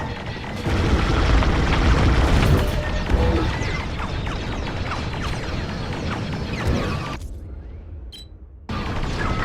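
A heavy, sustained roar of explosions and crashing debris in Star Wars: Squadrons rumbles on loud and dense for several seconds during a space battle in a station trench, then drops away briefly before surging back.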